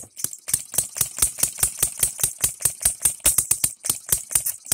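A small three-stroke model gas engine from Engine DIY runs steadily, firing in a fast, even train of sharp popping beats, close and moderately loud with a rattly edge and no voices.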